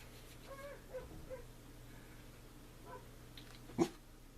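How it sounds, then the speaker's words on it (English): A dog outdoors gives a few soft, distant barks and whimpers heard from indoors, scattered across a quiet room with a faint steady hum underneath. "I got a dog barking outside."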